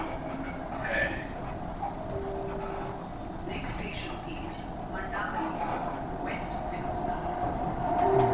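A Delhi Metro Pink Line train departs Mayur Vihar and runs with a steady rolling rumble and faint rail noise, while voices talk quietly over it.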